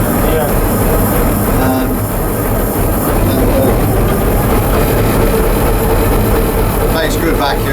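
A Fowler 0-4-0 steam locomotive on a light railway builds vacuum, giving a loud, steady rushing hiss and mechanical rumble that fills the whole stretch, with talk faintly beneath it.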